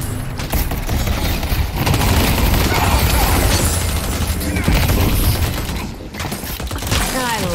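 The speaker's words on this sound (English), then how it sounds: "Don't stop firing!" Gunfire in the Deadlock video game: sustained rapid shooting and crashing impacts form a loud, dense barrage with booms and mechanical clatter, easing briefly near the end before resuming.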